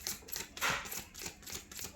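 Tarot cards being shuffled by hand in a card reading, giving a quick run of soft papery riffling flutters with one louder burst near the middle, close and fairly quiet, with no talk over it.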